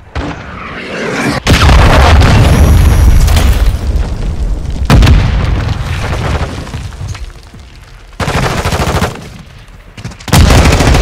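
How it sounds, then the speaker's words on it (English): Cruise missile strikes in Call of Duty: Modern Warfare 2 during a team deathmatch: loud booming blasts with sharp onsets, one around a second and a half in, later ones near five, eight and ten seconds, each trailing into rumbling debris and gunfire. "Hostile cruise missile incoming."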